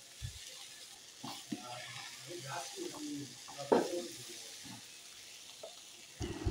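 Pumpkin and other vegetables frying in a pan, stirred after half a spoon of turmeric powder goes in, for a Bengali pui shak chorchori: soft steady sizzling with scraping stir strokes, one sharper clatter near the middle, and a faint voice underneath.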